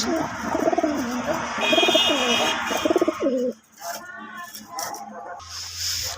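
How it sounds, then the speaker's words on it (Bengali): Pigeons in a rooftop loft coo in close, repeated throaty rolls, several overlapping calls in quick succession before dropping to quieter, scattered sounds and faint bird chirps. "এই হচ্ছে আমার লফটের কবুতরগুলো।"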